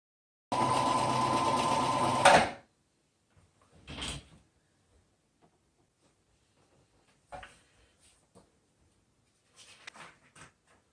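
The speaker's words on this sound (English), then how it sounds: "Thread tension. Not consistent with how it's interlocking." Sewing machine stitching a satin edge on a round tablecloth: one close, loud two-second burst of fast stitching, followed by quiet handling noises and light fabric rustles.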